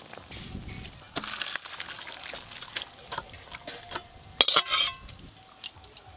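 Boiled banana flower being poured out of a metal pot, with scattered clinks and scrapes of metal, a splashy liquid gush near the middle and a loud clatter toward the end, close and uneven.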